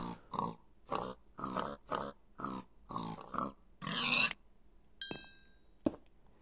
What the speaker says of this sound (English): Freaking pigs.